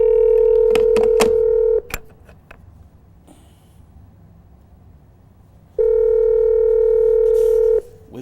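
Telephone keypad tones sound during a radio show call, with two long steady dialing-tone bursts at the start and end separated by a quiet gap holding a few soft clicks, loud and close.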